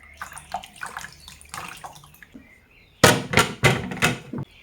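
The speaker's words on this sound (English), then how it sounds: "going to wash my carrots" Carrots are rinsed under running water in a village kitchen, with a series of close, choppy splashes and knocks of the vegetables against the basin, turning louder and harsher in the final seconds.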